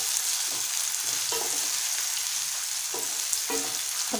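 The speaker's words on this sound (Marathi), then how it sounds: "आता त्यामध्ये मीडियम आकाराचा टोमॅटो बारीक चिरून घेतलाय तो घालूया आणि 2 मिनिटं परतवून घेऊया।" Finely chopped medium tomato meets softened onion in a hot pan, a steady close sizzle with a few soft scraping stirs of a spatula.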